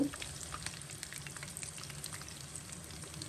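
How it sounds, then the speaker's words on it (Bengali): Chicken sizzles in oil up close, a dense, even crackle with small pops, steady for the whole stretch. "চিকেন ভাজা হয়ে গিয়েছে, এখন হচ্ছে উঠিয়ে নেব।"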